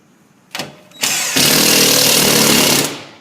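A power tool drives screws while a range hood is installed, giving a brief burst, a pause, then a loud sustained close-up whirring grind for about a second and a half before it winds down.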